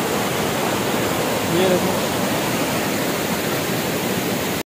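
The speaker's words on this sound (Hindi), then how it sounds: "देखो यहाँ से वाटरफॉल गिर रहा है और पानी बहुत जोर से जा रहा है" A waterfall of strong current pours over cut rock, a loud, steady rushing roar that fills the scene throughout, while someone speaks briefly over it.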